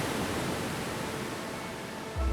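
Continuous rushing roar at the falls on the Pinware River, Labrador, a steady broadband wash of falling water, moderately loud and unbroken, ending with a brief low thump.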